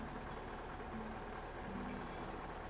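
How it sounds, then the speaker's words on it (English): Truck engine idling in the SnowRunner video game, a steady low rumble of constant loudness with faint tonal hums on top and no speech. "Engine running"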